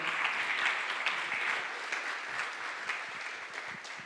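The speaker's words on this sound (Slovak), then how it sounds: "Dajte im potlesk" An audience applauds a team at a hackathon final, steady moderate clapping throughout with scattered individual claps standing out.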